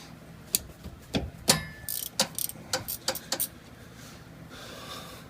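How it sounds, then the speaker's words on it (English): A 14mm wrench loosening the bottom rear brake caliper bolt on a Chevy Impala during a pad replacement; a series of sharp metallic clicks and ratcheting clanks in irregular bursts, close by, then fading. "What we're going to do is we're going to loosen this bottom bolt first."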